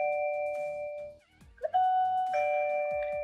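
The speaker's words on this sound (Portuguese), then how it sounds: "Então você pode ver que a fechadura ela tem uma campainha." A Zigbee smart door lock's built-in doorbell chime rings out clearly in sustained two-tone notes, fades briefly, then sounds again with a bright, ringing tone, with no talking over it.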